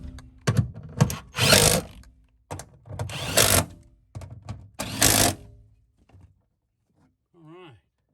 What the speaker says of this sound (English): I always like to start my bolt before I put this impact wrench on them